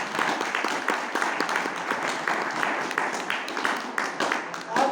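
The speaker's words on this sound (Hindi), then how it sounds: "एक बार जोरदार तालियों से स्वागत करें आप सभी का" Steady, dense applause from a student audience at a university hostel anti-drug campaign event fills the room, many hands clapping together at moderate distance with no pause.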